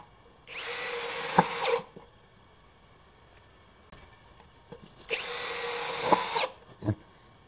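Two loud bursts of a DongCheng 12V cordless brushless impact drill drilling at speed 2 on light steel framing, each running steadily for over a second, separated by a quiet gap with small clicks and handling knocks.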